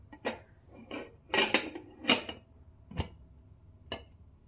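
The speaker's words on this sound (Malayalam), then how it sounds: "ഇനി കുക്കർ അടച്ചു വയ്ക്കാം." A metal pressure cooker lid being fitted and closed: a quick run of close clanks and clinks, irregular and sharp, with no talking.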